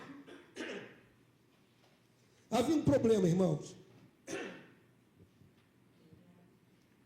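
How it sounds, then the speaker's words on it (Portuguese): A man clears his throat and gives short coughs in a quiet room, two brief bursts early, a louder rough one in the middle and another after, with a few spoken words between. "o pigarro está bravo"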